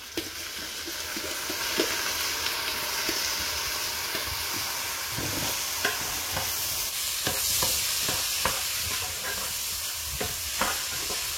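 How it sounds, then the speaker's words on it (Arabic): Rice stirred in a frying pan, a soft continuous sizzle with repeated scraping strokes of the spoon against the pan at an irregular rhythm, close and moderately loud. "نحركوه مزيان حتى يتفلفل لينا الرز"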